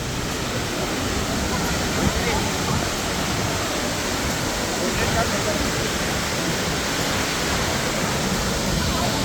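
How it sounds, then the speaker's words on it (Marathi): Rushing water pours down Jung Waterfall near Tawang, Arunachal Pradesh, as a constant heavy roar, near and steady across the whole stretch. "मस्त असं वॉटरफॉल इथे इंद्रधनुष्य पण दिसतंय"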